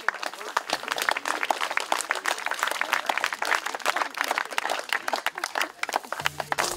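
Steady applause from an audience at a storytelling event, dense and continuous clapping that fills the whole stretch, fairly close and loud without pause.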